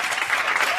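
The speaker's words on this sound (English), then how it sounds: "Give them another big round of applause, please." Studio audience applause on a morning TV show after a musical number, a short loud burst of dense clapping heard alone.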